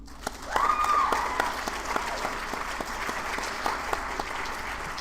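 An audience at an evening school event breaks into sustained applause, a broad, even roar of many hands clapping that swells quickly and holds steady.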